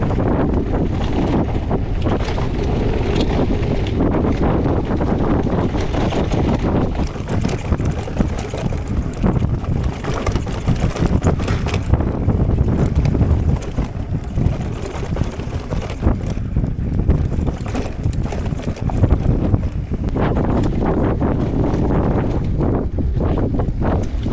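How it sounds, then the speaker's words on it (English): Light outdoor wind rushes and buffets against the microphone in a loud, continuous roar that rises and falls over the whole stretch, with no voices. "Not too much wind today."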